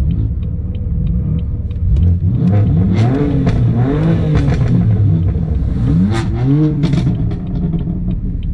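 BMW M4 engine with its stock exhaust revs loudly several times over a deep idle rumble, each rise and fall clear and close, with no talking.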